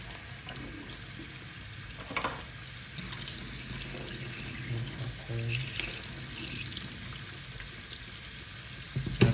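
Water runs steadily from a tap as a Grundig FIBERCatcher part is rinsed under it, a continuous close hiss and splatter with a few brief knocks of the part.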